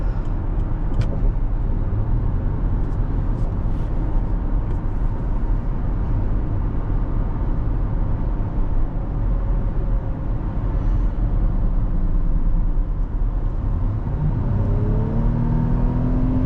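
A 2011 Lexus RX 450h hybrid with 221,000 miles accelerates at full throttle, giving a steady, dense engine and road roar heard from inside the cabin that rises slightly in pitch near the end.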